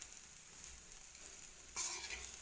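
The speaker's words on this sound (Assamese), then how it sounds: "10 মিনিটমান এনেকৈ লৰাই লৰাই মই ভাজিম।" Rice and onions for shahi pulao frying in a pan while being stirred: a faint, quiet sizzle that swells into louder scraping and crackle near the end, with no talking.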